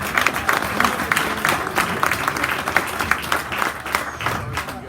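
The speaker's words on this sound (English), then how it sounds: "You're clapping because he's done so early." A meeting audience at a rally claps in a lively burst of close, crisp hand claps. The clapping fills the room and is mixed with faint murmuring voices.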